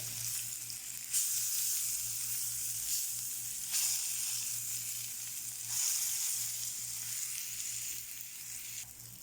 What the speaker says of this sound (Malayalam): ഒരു സൈഡ് മൂത്ത് വരുമ്പോൾ മറു സൈഡ് തിരിച്ചിടുക